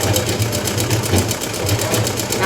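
Pedal-driven sewing machine stitching a blouse, a fast steady mechanical chatter of needle strokes running continuously at close range, with a voice over it.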